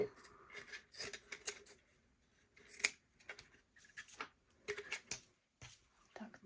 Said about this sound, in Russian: И отрезаем всю лишнюю ткань.